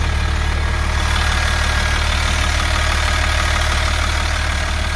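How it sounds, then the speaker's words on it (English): A Caterpillar diesel engine in a 2002 Newmar Dutchstar motorhome idles steadily up close, a loud, constant low rumble with a droning hum and no talk over it. "I don't know if you guys can hear me over the engine"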